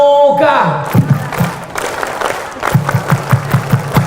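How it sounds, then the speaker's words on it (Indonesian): A group of Indonesian scouts performs the rhythmic tepuk pramuka clap in unison, sharp claps coming in a patterned beat after a shouted voice, with crowd noise around. "Tepuk pramuka."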